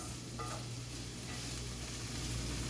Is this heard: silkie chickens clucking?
no